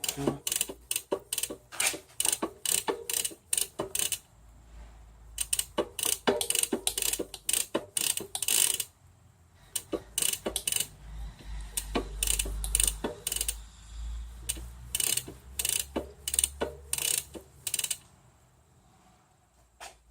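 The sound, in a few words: Catrike recumbent trike gears and cogs shifting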